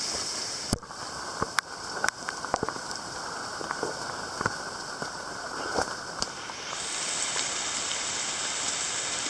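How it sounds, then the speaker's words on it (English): Torrential rain pours steadily during a mountain trek in Laos, a dense constant hiss with scattered sharp drips and knocks close by, growing slightly brighter near the end. "The torrential rain continued as we started our ascent of the next mountain."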